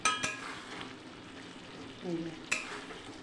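A spoon stirs mutton curry with potato pieces in a pan, making a faint soft scraping over a low sizzle, with a couple of sharp utensil clinks against the pan near the start and end.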